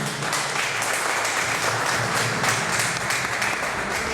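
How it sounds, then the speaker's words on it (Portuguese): A church congregation applauds in unison, dense sustained clapping from many hands that fills the space loudly and evenly throughout. "Vamos aplaudir ao Senhor Jesus."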